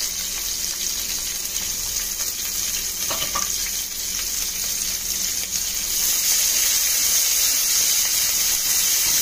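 Onions and green chilies frying in hot oil with whole spices for a gongura chicken biryani, a steady loud sizzle and hiss that continues throughout and swells stronger toward the end.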